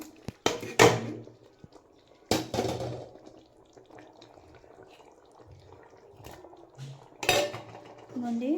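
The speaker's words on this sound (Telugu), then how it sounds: "దీన్ని బాగా కలుపుకుందాం మెల్లి మెల్లి కలుపుకుందాం" Metal utensil scraping and clanking against a pot of chicken and rice, a few sharp knocks among quieter stirring scrapes, close by with no talking.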